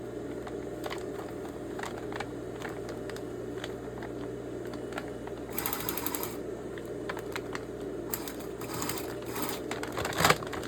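A sewing machine stitches a strap onto a grocery bag made from a recycled pet food bag, a quiet continuous whirring with a few brief louder bursts and small clicks, heard alone.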